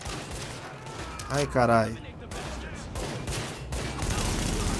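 Gunfire in The Division, bursts of shots and booms rattling throughout, with a man exclaiming loudly over the fighting midway.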